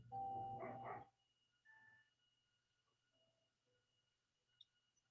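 A dog outside gives a short burst of barks at the start, fairly loud, then a few faint distant yips and quiet household sounds in near silence.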